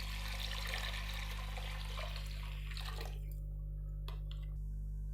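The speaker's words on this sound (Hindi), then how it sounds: "तकरीबन 3 गिलास मैंने और पानी डाल दिया" Water is poured into a cooking pot for lasagna soup in a steady trickling stream that stops partway through, leaving a low hum and a few faint drips and clinks.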